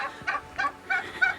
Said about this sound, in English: Turkeys want to get out.